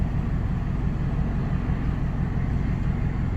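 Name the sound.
Toyota 4Runner V8 engine rumble with exhaust cutout bypass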